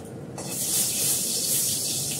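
Dried red chillies dropped into hot oil for a tempering, giving a steady broad hiss and sizzle that swells after a quiet start and holds loud and close.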